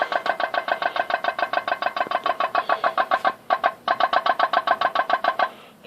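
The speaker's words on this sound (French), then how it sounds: "comme vous pouvez l'entendre, voilà, le moteur est parti et il pousse." A homemade toy boat's pop-pop steam engine putters along in a steady, rapid stream of crisp pops. It stops briefly midway, then resumes the same even rhythm on its own.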